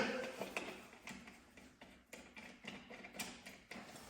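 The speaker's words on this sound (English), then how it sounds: "just take off my back seat bolt here" A bolt being taken off the back seat of a touring motorcycle, with a series of quick metallic ratchet ticks at close range, no voices.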